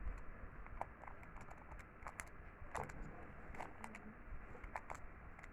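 A Rubik's-type puzzle cube is scrambled by hand, giving quick, faint, irregular plastic clicks and clacks in rapid bursts, close up with no talking.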